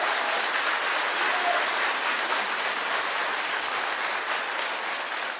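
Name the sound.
applause welcoming Rahul Gandhi at Congress meeting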